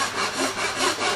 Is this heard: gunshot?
no